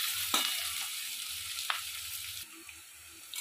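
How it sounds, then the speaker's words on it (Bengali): Onions with salt sizzle in a hot pan, a steady frying hiss broken by a few sharp scrapes as they are stirred; no talking. "এবার একটু নেড়ে দেবো যাতে পেঁয়াজটা তাড়াতাড়ি ভাজা হয়ে যায়।"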